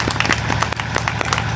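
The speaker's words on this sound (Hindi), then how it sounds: "जोरदार तालियां हो जाएं सर जी के लिए" Brief applause from an audience at a talk, a patter of claps over a low steady background hum, fairly loud and close for just over a second.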